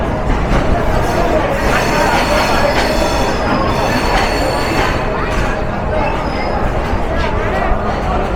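Nilsagar Express train at Dhaka Airport station, its steel wheels giving off thin, high squeals over a continuous heavy rail rumble, with a murmur of crowd voices mixed in across the whole stretch.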